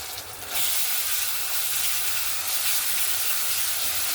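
Garlic and ginger paste hitting hot oil with fried onions in a pan for mutton curry, a loud, steady broadband sizzle that bursts up after a brief quieter start and holds alone.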